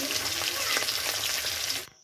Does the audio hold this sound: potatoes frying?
yes